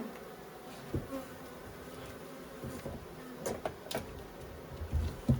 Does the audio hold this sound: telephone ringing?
no